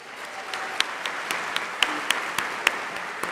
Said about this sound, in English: Let's offer Maestro Juan Ortiz another round of applause.